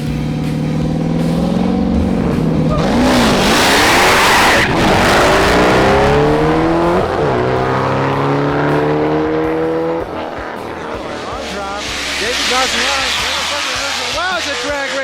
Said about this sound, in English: Wow, it's a drag race.